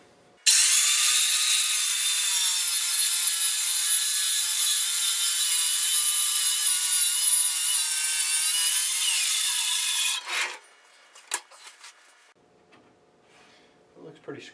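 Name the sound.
radial arm saw cutting wood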